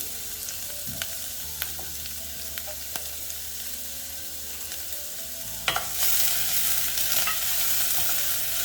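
Garlic and green chili fry with sweetcorn in a pan, giving a steady close sizzle with occasional stirring taps and scrapes. The frying grows brighter and louder after a clatter near the end.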